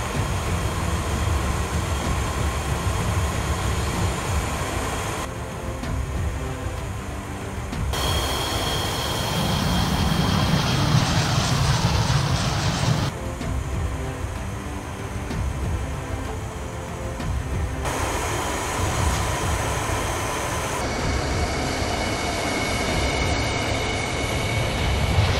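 A jet engine spooling up in the DCS flight simulator during an Indian Air Force startup sequence, a steady loud broadband roar with a rising whine that holds for the whole stretch.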